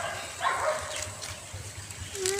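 Dogs bark from a distance near a kennel by a fishing spot, a few faint, brief yelps rising over low background rumble.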